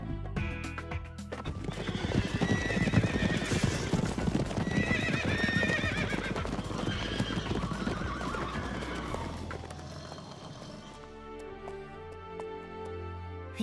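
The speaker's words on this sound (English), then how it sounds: "you're really a nice horse" A horse's hooves clip-clop steadily and loudly close by, mixed with neighing and whinnying, before the sound eases off near the end.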